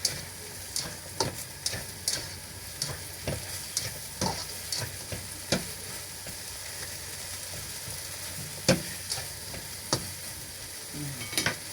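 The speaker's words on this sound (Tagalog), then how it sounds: "Igisa din natin yung ating talong para mas masarap." Eggplant sautés in a pan for a mung bean dish, a steady close sizzle of frying with scattered sharp scrapes and clicks of stirring, no voices.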